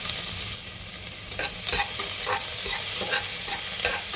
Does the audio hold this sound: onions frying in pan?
yes